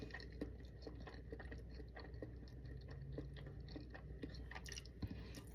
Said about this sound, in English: Them say you must chew your food 32 times.